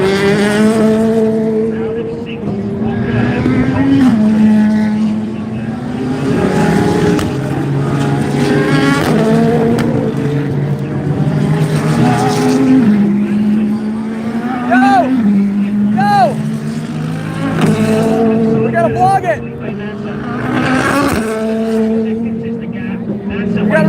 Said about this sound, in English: Corvette is slightly catching the Mustang.